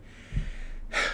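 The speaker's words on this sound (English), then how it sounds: "I'm out of breath, sorry." A person out of breath breathes heavily, with a short gasping intake followed after a pause by a loud, rushing exhale close to the mic.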